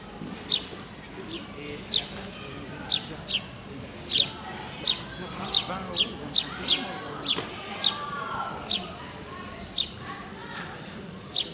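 Small birds chirp in a Pyrenees mountain town, sharp bright calls repeating at a steady, even pace over soft background murmur and faint voices.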